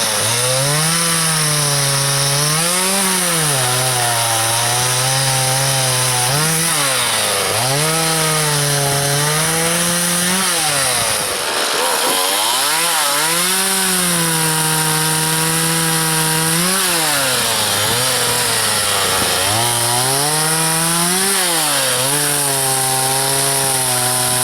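A chainsaw cuts through a piece of oak, its loud, steady engine drone rising and falling in pitch in repeated surges as the chain bites and eases, with one brief dip near the middle.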